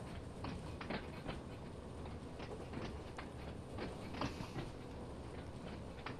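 Isle of Wight four-car train running in Train Sim World 2, a steady rolling rumble with recurring clicks and rail clatter throughout, no voices.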